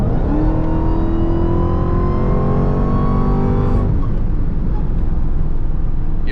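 A Dodge Hellcat Charger pulls hard from inside the cabin, engine note and supercharger whine climbing steadily for nearly four seconds before a sharp shift drops the pitch into a lower, sustained drone.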